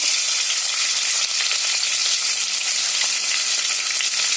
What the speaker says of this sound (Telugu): ఆయిల్ హీట్ ఎక్కింది, సో హోల్ స్పైసెస్ అన్ని యాడ్ చేస్తున్నాము. ఇప్పుడు ఆనియన్స్ యాడ్ చేద్దాం